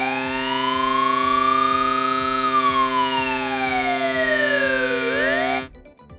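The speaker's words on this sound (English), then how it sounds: "I did not know that they made police siren sounds." A loud electronic police siren from vehicle horns in the game Trailmakers wails up and down in long sweeping tones, steady and close, then cuts off abruptly near the end.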